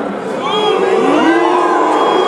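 A crowd at the Dutch Bloggies 2007 awards ceremony raises a sustained wave of booing and jeering, loud and continuous, with mixed voices swelling after a brief quieter start.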